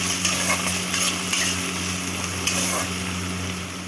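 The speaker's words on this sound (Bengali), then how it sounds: "এই বড় বড় সাইজের দুটো পেঁয়াজ আমি কুচি রেখেছিলাম পেঁয়াজগুলোকে আমি এর মধ্যে দিয়ে দেবো" Two large chopped onions frying in a hot pan for chicken kofta curry, a steady close sizzle with light stirring scrapes and clinks throughout.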